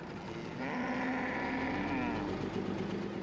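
Cattle of nomadic herders low on the West African savannah in a single long, drawn-out moo, fairly close, over a steady rumble of wind or a distant engine.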